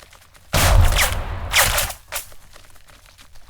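Gunfire bursts in the tactical war game Burden of Command, a loud sudden volley followed by a second rattle of shots and a trailing scatter of fainter pops.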